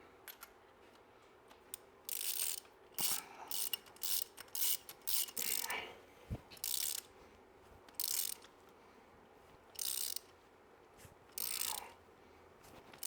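A ratchet wrench tightens an engine bolt during a garage engine rebuild, its pawl clicking in repeated bursts of short strokes with pauses between, close and clear over a quiet room.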